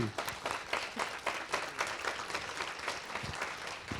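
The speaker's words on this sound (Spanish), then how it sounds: "Despidamos a Amelia Ortiz con un fuerte aplauso" An audience at a planetarium astronomy lecture applauds, a steady patter of many hands clapping, moderately faint and roomy, with no talk over it.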